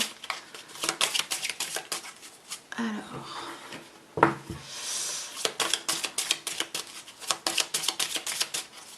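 Tarot cards riffled and shuffled in quick bursts of crisp flutters, pausing for a soft rustle as cards are drawn, then shuffling again, close and moderately loud.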